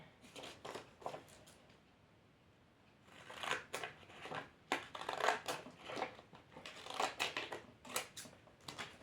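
Scissors snip through paper for scrapbooking, a few faint cuts, then a quick series of close, crisp snipping strokes in uneven bursts, with no talk over them.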